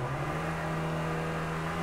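A race car in a racing video game sets off on its warm-up lap, giving a steady, droning engine whir at constant loudness with no voices.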